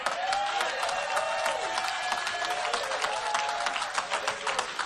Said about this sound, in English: All 10 of them people clapping.